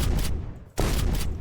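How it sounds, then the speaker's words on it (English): Guns from the Tyramity mod in Minecraft firing in loud, close rapid bursts, a short pause splitting two volleys of quick repeated shots. "Tyramity adds, among other things, guns."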